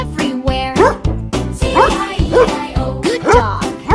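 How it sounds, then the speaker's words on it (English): A dog barks repeatedly in a children's farm animal song, quick bow-wow yips falling in a bouncy rhythm over music and a singing voice. "Doggy barked and wagged his tail"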